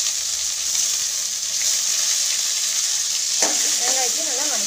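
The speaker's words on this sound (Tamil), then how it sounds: "வெங்காயத்தையும் நல்லா வதக்கி விட்டுடலாம்" Onions sautéing in hot oil with urad and chana dal for tomato sevai: a constant bright sizzle close by, with a brief clink of stirring and faint squeaky scraping near the end.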